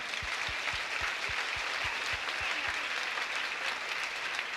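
Sustained audience applause for mothers at a 1991 Mom's Weekend fashion show, a dense, even wash of clapping from a crowd, with a string of regular low thumps underneath during the first few seconds.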